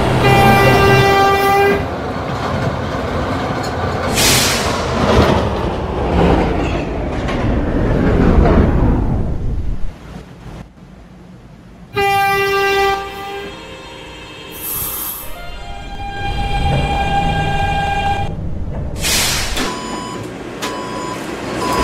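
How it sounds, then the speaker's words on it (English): An R160B subway car on the D train runs loudly and close, with motor whine rising and falling, rail clatter, and bright chime-like tones. The noise drops sharply around the middle, then builds again as the train moves. "This is the Gatlin bound D train."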